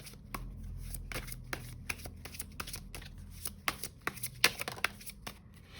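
Tarot cards are shuffled close up in quick riffles and soft slaps, a dense run of crisp papery flutters with sharper snaps near the end, played alone without talk.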